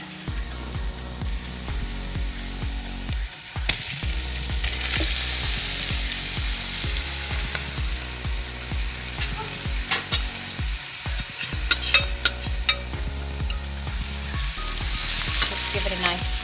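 Chicken sizzles and fries steadily in a hot pot with browned onions for curry, with scraping stirs and clanks of a utensil, no talking.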